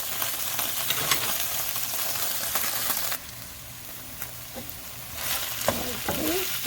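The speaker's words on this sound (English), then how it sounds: "And into this same pan with all the same drippings, we're going to get our onions and mushrooms into." Sliced onions and baby bella mushrooms sizzle in beef drippings in a pan, a steady loud fry that drops quieter partway through, with occasional utensil scrapes and taps and no talking.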